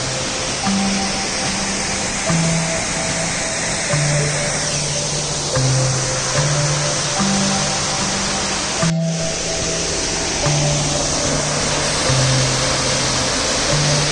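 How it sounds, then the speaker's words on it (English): A waterfall on the Four Waterfalls Walk in the Brecon Beacons pours in a dense, continuous broadband roar, close and loud, with a brief break midway and a faint hum of tones under the rushing water. "But it's a beautiful little waterfall."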